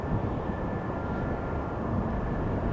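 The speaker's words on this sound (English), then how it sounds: "we have an A330 from Delta. It is now taxiing towards the threshold area from the main platform area." A Delta Airbus A330 taxis at Amsterdam Schiphol Airport toward the runway threshold, a steady broad jet engine roar with a faint constant whine, heard from a distance and unbroken throughout, with no voices.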